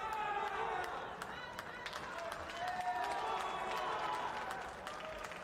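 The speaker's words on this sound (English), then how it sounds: "the crowd chanting Omar" Crowd at the Abu Dhabi World Professional Jiu-Jitsu Championship cheers and chants after a brown belt gi final, a sustained roar with scattered claps and rhythmic voices, heard somewhat distantly throughout.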